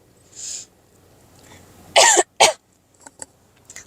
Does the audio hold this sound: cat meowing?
no